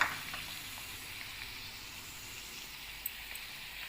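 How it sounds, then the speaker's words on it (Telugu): Mutton fries in a pan with turmeric and salt, giving a steady close sizzle and hiss with a few faint stirring clicks and no talking. "మొత్తం శుభ్రం కలుపుకొని మీడియం ఫ్లేమ్లో వేయించుకోవాలి"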